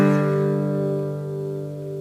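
An A-shaped guitar chord for a song is strummed once and left to ring, a single sustained chord fading slowly on its own.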